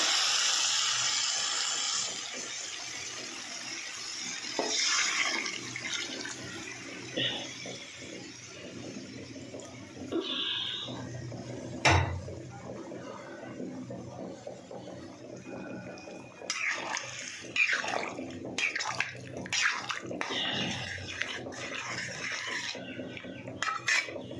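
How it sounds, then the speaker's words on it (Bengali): Boiled chickpeas slide and tumble into a cooking pan of masala, a wet scraping and clatter of utensil against metal, with a sizzling hiss and intermittent stirring knocks, close and steady. "এবার আমি কাবলি চানাটা ঢেলে দেবো।"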